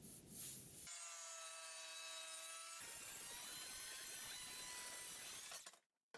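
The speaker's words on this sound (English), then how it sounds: "The first plank I'm going to rip about 5/8 off the bottom here to get rid of the lighter patch." A saw rips a strip off the bottom edge of a wooden cabinet-door plank in a kitchen renovation workshop, with a whining blade tone that shifts into rough, continuous cutting for several seconds before stopping abruptly, close and loud, with no speech.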